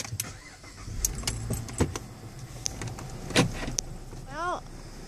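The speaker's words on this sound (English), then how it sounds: "I'll turn the car on." A car starts up with a whirring crank and engine catch, mixed with door and power-window clunks and clicks. Short sharp knocks punctuate a low engine rumble before a brief rising whine near the end.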